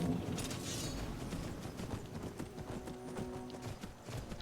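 Horse hooves clopping along a mountain path in Skyrim Requiem, a steady rhythmic gait under faint ambient game noise and occasional creaks, with no speech.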